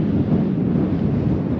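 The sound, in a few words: wind blowing on a desert cliff edge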